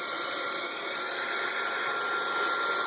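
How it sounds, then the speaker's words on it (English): A steady, loud rush of blowing air with a constant whine, continuous and close, like a hot-air tool running without pause. "I hope you can hear me over this heat gun."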